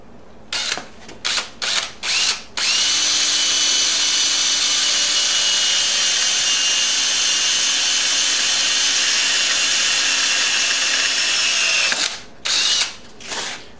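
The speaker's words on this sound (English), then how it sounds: "I need to drill a hole and tap it right here" Power drill boring a small hole into a Honda Sabre motorcycle frame at a joint: a few short trigger bursts, then one loud, steady whine for about ten seconds, and a couple of final bursts. No talking.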